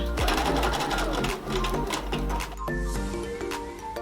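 A sewing machine stitches a jeans waistband in a continuous rapid mechanical whir with a dense chattering rhythm, loud and close, briefly slowing near the middle before carrying on.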